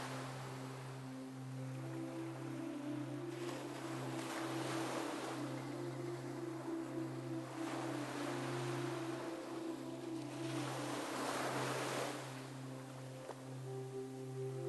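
Ocean waves surge and recede in slow, soft swells every few seconds, a gentle, distant wash layered over a steady low drone.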